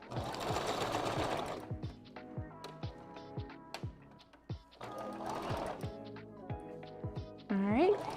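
A sewing machine stitches a 5x5 closure wig in quick mechanical bursts, starting and stopping with rapid ticking runs, heard close and clear between pauses; a brief whirring squeal rises near the end.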